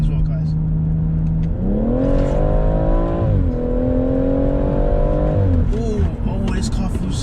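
A tuned BMW M140i (410 bhp) engine revs hard at full throttle, pitch climbing steeply through the gears with brief dips at each shift, loud and close.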